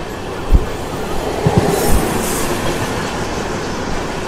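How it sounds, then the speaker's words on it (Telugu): The Ernakulam–Patna train passes through Warangal railway station, a loud steady rumble of wagons with several heavy wheel thumps and clacks over the rail joints. "ఆ ట్రైన్ వచ్చేసి మనకు ఎర్నాకుళం పాట్నా"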